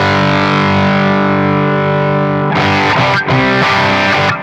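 Guitar played through a Zoom MS-100BT multi-effect pedal: a sustained distorted chord rings for a few seconds, then a series of choppy, rhythmic distorted chords follows, loud and close.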